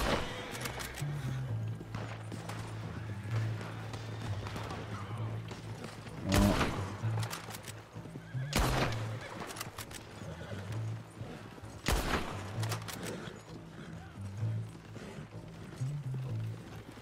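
A horse in the Red Dead Redemption 2 video game snorts and whinnies in several sharp bursts over a background of clip-clopping hooves, all fairly quiet and with no talk.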